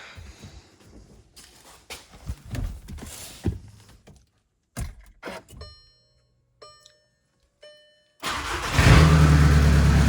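A 2014 VW Passat TDI diesel engine cranks and catches near the end, settling into a loud, steady idle after several seconds of quiet handling noises and clicks.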